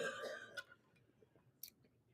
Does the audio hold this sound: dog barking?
no